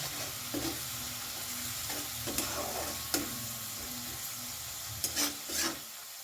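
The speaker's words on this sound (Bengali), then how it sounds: "এবারে ভালো করে মশলাটা আমি কষিয়ে নেব বেশ কিছুক্ষণ ধরে" Spice masala moistened with a little hot water sizzles in a pan for a duck egg curry, under a steady soft fry with occasional scraping strokes of a spatula stirring it.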